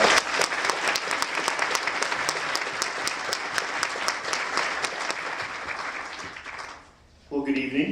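Close, energetic applause at a Globe University-Madison fall 2011 graduation ceremony after a student speech, dense clapping that fades out near the end before a speaker begins talking.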